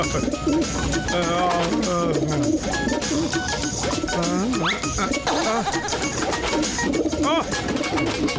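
Pigeons cooing in a Motu Patlu cartoon, repeated soft coos and fluttery calls layered under dense background music, jingles and animated voices, continuous throughout.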